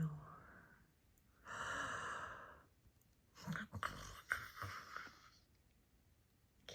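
A storyteller's voice imitates Pooh's sounds: a soft, breathy sigh, then a longer, rasping snore with snorting breaths, quiet and close, as a bedtime-story effect.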